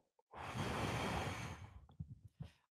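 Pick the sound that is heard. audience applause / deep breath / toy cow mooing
deep breath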